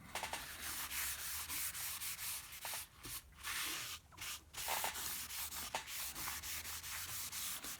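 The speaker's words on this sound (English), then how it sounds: "Going to wipe the excess off." Cloth wiping excess paint finish off a wooden carving blank, a continuous close, loud rubbing and swishing with brief pauses as the rag is repositioned, no voices.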